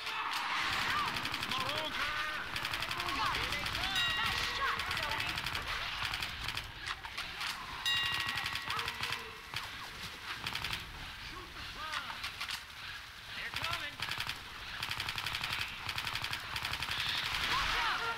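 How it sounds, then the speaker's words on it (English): Rapid bursts of gunfire from shooting zombies in a dark horror video game, dense and continuous throughout, with a voice talking over the shots at times. "Shoot that zombie in the back."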